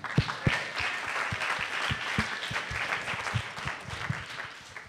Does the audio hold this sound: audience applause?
yes